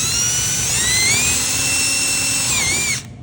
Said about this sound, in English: you're gonna drill